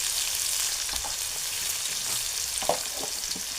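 Garlic, green chilli and turmeric hit hot oil with a steady broadband sizzle, near and fairly loud, broken by a few soft knocks and spatters toward the end; no talking.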